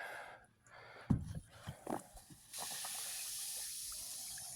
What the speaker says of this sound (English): See how that fizzes up.